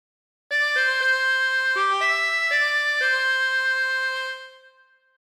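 A harmonica plays a short melodic phrase from The Yellow Rose of Texas: a handful of clear, sustained reedy notes in succession, played alone and ringing out into silence.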